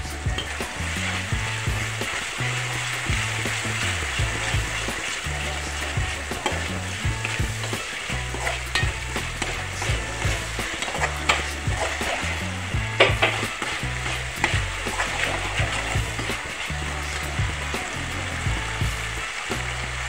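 Spice masala with grated coconut sizzles and fries in a pan for aloo-vangi bhaji, with steady close crackling and regular scraping stir strokes throughout, no voices.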